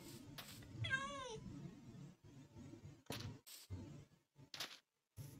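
A single clear Minecraft cat meow rises and falls near the start, followed by scattered clicks and short bursts of game noise separated by quiet gaps.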